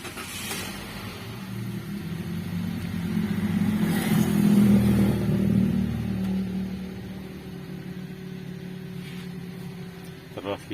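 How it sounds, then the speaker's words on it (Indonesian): A car engine starts and runs during a check of a weak air conditioner, with a low rumble swelling and then settling into a steady idle, while a voice talks over it. "kita nyalakan mesinnya."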